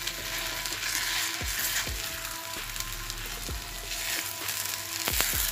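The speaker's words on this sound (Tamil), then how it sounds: "இப்போ நல்லா மிக்ஸ் பண்ணி விட்டுருங்க. முட்டை கொஞ்சம் ஃப்ரை ஆகும்." Eggs fry in a pan for kothu parotta with a steady, even sizzle, and a utensil knocks and scrapes against the metal every second or so as the mixture is stirred.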